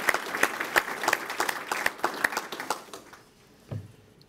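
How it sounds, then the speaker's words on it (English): An audience applauds at a US Army Garrison NCO induction ceremony in Natick, MA, with brisk, fairly close clapping that fades out after about three seconds, followed by a brief murmur. "Let's give them a wonderful round of applause there."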